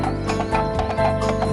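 Cartoon galloping hoofbeats with a whinny as an ant carries a friend on its back like a horse, a quick loud clip-clop rhythm close up over a bright musical backing.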